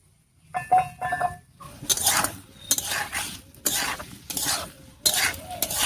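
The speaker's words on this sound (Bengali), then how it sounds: "টমেটো বাটা আর মশলাটা দিয়ে খুব ভালো করে আলুর সঙ্গে মিশিয়ে নিয়েছি" A spoon stirs grated tomato and spice paste into potatoes in a pan, with repeated scraping and clinking strokes against the metal in uneven bursts over a faint sizzle, close and fairly quiet.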